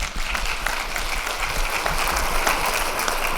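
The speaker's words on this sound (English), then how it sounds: "Please give Nate a warm round of applause." An audience at a government technology conference applauds a speaker with dense, sustained clapping that holds steady from start to finish.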